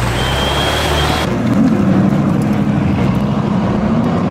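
A deep, steady Bugatti Veyron exhaust drone close by, shifting to a rougher, throatier rumble partway through before cutting off abruptly.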